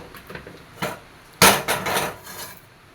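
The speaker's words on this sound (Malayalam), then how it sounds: "ഒരു ചീനിച്ചട്ടി അടുപ്പത്ത് വയ്ക്കാം" A cheenachatti frying pan is set down on a kitchen stove with a few light metallic taps, then one sharp, loud clank and some brief rattling settling sounds.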